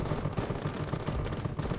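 Heavy cannons fire in rapid succession during a Space Engineers battle, a dense, rumbling barrage of overlapping booms with strong low-end weight, steady and continuous with no voices over it.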